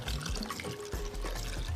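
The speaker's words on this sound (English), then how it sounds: "you cover it with warm water" Warm water poured over lemons and salt in a jar while preparing Moroccan preserved lemons, a steady close splashing pour running for about two seconds with a brief lull midway.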